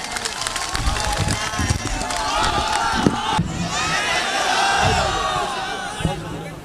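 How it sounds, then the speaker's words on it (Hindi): Crowd at a mushaira in honour of poet Imran Pratapgarhi claps and cheers loudly, a dense roar of applause with shouts rising and swelling throughout, close and sustained with a voice heard among the noise. "तालियों की गूंज में इस्तकबाल की।"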